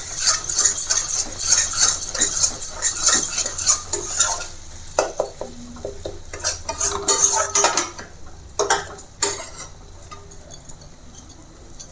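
Chole masala is stirred in a cooking pot, the spoon scraping and clinking against metal in steady repeated strokes with a faint sizzle underneath, close and fairly loud.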